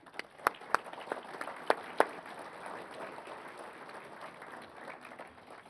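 Applause from a convention audience of rural municipal members, with a few sharp distinct claps at the start settling into a soft, steady patter of clapping at moderate distance.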